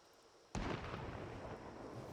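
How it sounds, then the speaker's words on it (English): In the Project Zomboid video game, a distant ambient gunshot booms once, then rolls into a long, rumbling echo that lingers. "Ambient gunshot noise."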